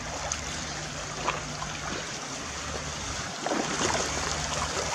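A small stream where salmon swim up from a bay, a steady soft trickling and gurgling wash of water, fairly faint and continuous, with no talking.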